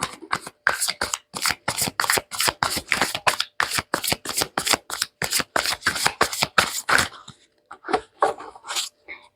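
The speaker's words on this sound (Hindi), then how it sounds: "Last shuffle." Tarot cards are shuffled by hand in quick rhythmic riffles, a close, crisp burst of flapping card strokes that slows and thins out toward the end with no talking over it.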